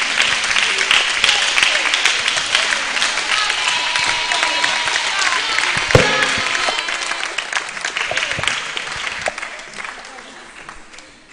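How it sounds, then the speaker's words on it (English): Audience at a symposium marking 140 years of the Sisters of Our Lady of Apostles gives a Reverend Father a warm welcome: dense, sustained applause with crowd murmur and voices underneath, tapering off toward the end. "with a round of applause, let us welcome Reverend Father Anthony Kofi Saki to give us the first input."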